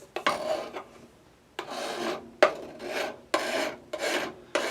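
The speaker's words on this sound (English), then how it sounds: "So I've been working like that, filing off the excess." A hand file rasping off excess material on a small handmade slick tire, in six separate scraping passes of about half a second each with short pauses between them, close and fairly quiet.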